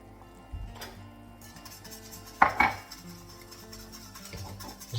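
Soft butter being mixed into a red wine sauce in a pan, with quiet scraping and stirring over a low background hum and a couple of brief metallic clinks of utensil against pan.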